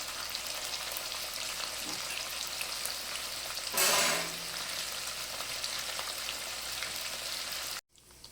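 Small anchovies shallow-frying in a pan, one batch of several, giving a continuous crackling sizzle close by with a brief louder hissing surge midway, then a sudden drop near the end.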